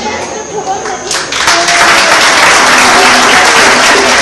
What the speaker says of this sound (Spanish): Un aplauso para Islabón, caramba, por Dios.